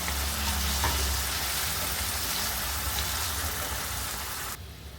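Tomatoes and capsicum sautéing in a pan for a paneer bhurji with no onion or garlic, a steady frying sizzle that drops away abruptly near the end.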